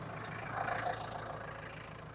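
Tractor engine running at raised RPM for 540 PTO speed, a steady mid-pitched drone close by with a slight swell partway through, no voices.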